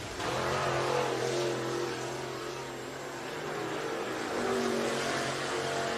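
A Late Model Sportsman race car on a qualifying lap at Needmore Speedway, Norman Park, Georgia, its engine a continuous loud roar that swells and eases as it circles the track.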